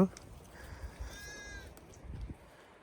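A sheep bleats once, a wavering cry mid-clip, over low rustling and faint background noise.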